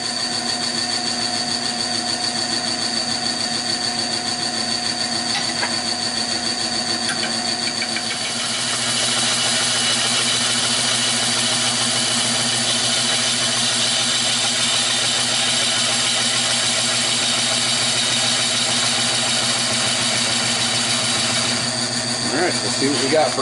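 Birch bowl blank spinning on a wood lathe at about 300 RPM, giving a steady motor hum with tonal whine that grows fuller partway through, running continuously without talk.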